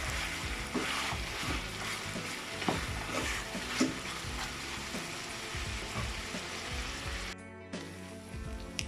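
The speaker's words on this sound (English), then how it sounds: "I'm going to allow the meat to brown slightly while the onions cook" Lamb meat and onions browning in a pot for a stew, a quiet, continuous sizzle with occasional scraping stirs, then a brief pause in the sound near the end.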